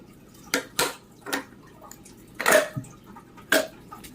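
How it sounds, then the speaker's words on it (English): Chunks of wax dropped into a metal crucible: a handful of sharp, clinking taps and light knocks spaced irregularly, close and fairly quiet, with nobody speaking. "we're going to take our wax and we're going to stick it into our crucible"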